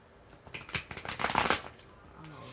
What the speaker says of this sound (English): let me do 2 more shuffles